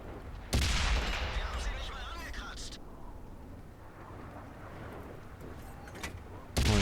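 A single booming tank cannon shot in World of Tanks from an Object 430, with a loud blast trailing into rumble before another heavy burst at the end, while someone talks over the battle.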